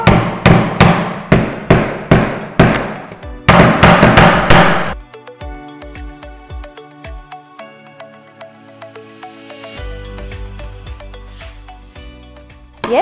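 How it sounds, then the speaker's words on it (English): A hammer strikes repeatedly in quick, loud bursts of sharp knocks, driving nails into wood for string art, then slower ringing metallic taps follow. "That's exactly where you're going to be hammering your nails in"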